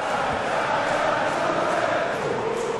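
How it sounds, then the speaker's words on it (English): Packed darts arena crowd in Mulheim roaring and cheering continuously, a dense wall of voices filling the hall without letup. "The crowd have found another gear as well."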